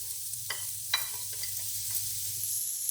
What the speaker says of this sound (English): Add onion